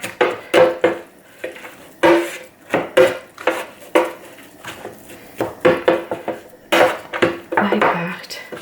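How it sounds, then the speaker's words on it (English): Mince being broken up in an air fryer pan: repeated sharp scraping and tapping of a utensil against the pan, irregular bursts close by. "I'm just breaking the mince up."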